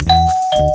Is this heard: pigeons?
no